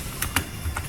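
Keystrokes on a computer keyboard while coding a simple JavaScript login screen, three quick soft taps in under a second, close and fairly quiet with no voice.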